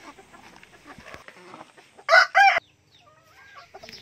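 Native chickens cluck nearby on a backyard farm amid soft scratching and shuffling, with two loud squawking bursts in the middle and a brief call near the end.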